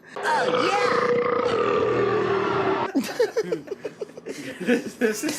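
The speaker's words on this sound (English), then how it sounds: "the belch was getting a lot of power during the time you were laying down" A loud, drawn-out belch lasting nearly three seconds, close and guttural, followed by laughter and chuckling from people nearby.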